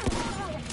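A single shotgun blast in the video game Destiny 2, one short sharp boom right at the start that decays into a brief tail.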